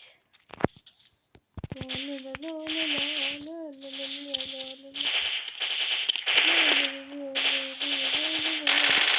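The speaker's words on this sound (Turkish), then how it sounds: "Oğlum Uzi ile herifle kafadan vuruyorum ya." Uzi submachine gun fire in a video game: short rapid bursts and single cracks repeating through the scene, loud and close, mixed with game sound effects and a voice talking over it.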